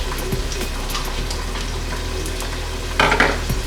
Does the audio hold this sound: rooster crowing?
no